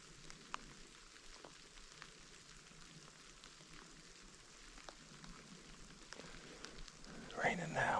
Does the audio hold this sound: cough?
no